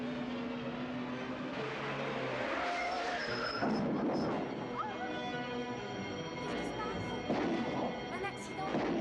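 Car tires squeal and skid during a vintage 1988 TV drama accident scene, dense and loud, layered with engine noise, music and brief shouting voices.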